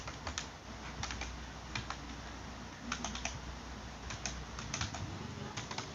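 Steady typing on a computer keyboard while entering a MySQL select command, with fast bursts of close, crisp keystrokes and brief pauses, over a low background hum.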